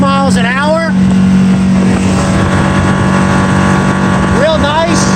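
A 2003 Scout 235 Sportfish center console boat runs at speed around 5,600 RPM, its outboard engine giving a steady, loud drone with wind and water rush, while people talk over it.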